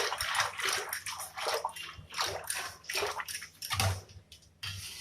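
Rhythmic sloshing and swishing of curd and water being churned into buttermilk with a hand churner in a container, repeated back-and-forth strokes close by, with no voices.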